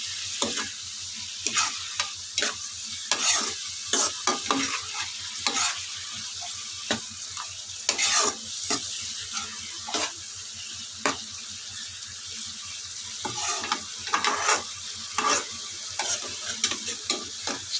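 A spoon scrapes and stirs spinach with salt and turmeric in a pan, giving repeated sharp strokes in an uneven rhythm over a constant gentle sizzle.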